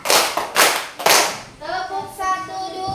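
Schoolchildren in a classroom perform a rhythmic clapping game, tepuk semangat, with three sharp, loud clap bursts in quick succession followed by a brief spell of children's voices.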